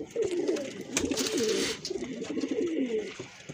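Pigeons of a patti-wale breed cooing in repeated rolling phrases, close and steady across the whole stretch, with no voices over them.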